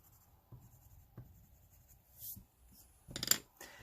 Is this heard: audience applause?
no